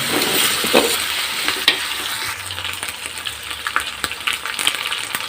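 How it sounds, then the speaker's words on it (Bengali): Ginger and garlic fry in a pan with loud, crackly sizzling and repeated scraping strokes of a spatula, close and continuous with irregular bursts of stirring and no voices. "আদা রসুনটা ভালো করে কষিয়ে নেব।"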